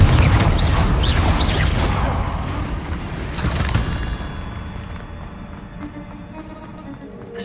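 A Confringo fire spell blasts in Hogwarts Legacy, a loud booming burst with crackling rush that rolls on for several seconds, then fades into quieter rumble and a faint voice.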